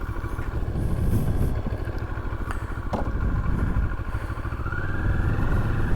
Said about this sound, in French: on va déjà écouter le bruit du moteur